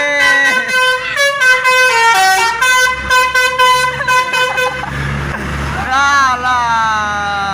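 A bus telolet horn honks a bouncy multi-tone melody outdoors, loud and close, sliding through several pitches, with crowd noise and voices underneath and a final rising toot.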